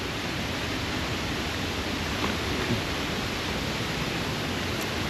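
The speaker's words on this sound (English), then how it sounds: "I can hear the waterfall." A waterfall in the Bali jungle near Ubud, during a rainstorm, gives a steady, broad rushing roar with no breaks, fairly loud and even throughout, with no talk over it.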